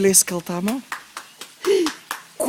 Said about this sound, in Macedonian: Кој плеска, сине? Кој плеска таму?